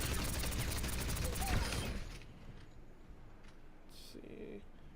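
Wrecking Ball's guns in Overwatch firing at a training bot, a rapid burst of automatic fire that runs loud for about two seconds, then cuts off into quieter game sounds with a few faint clicks.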